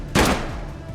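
A single sharp gunshot rings out in the Colony Ship video game as a headshot attempt, a loud close crack with a short decaying tail.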